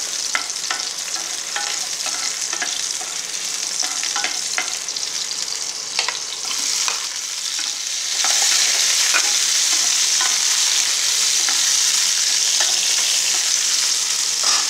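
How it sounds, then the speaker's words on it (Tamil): Tomatoes sautéing in a pan while cooking a bitter gourd tamarind curry: a steady close sizzle with repeated scraping stirs that grows louder and hissier partway through, no voices. "இதோட தக்காளியும் போட்டு வதக்கிடுவோம்."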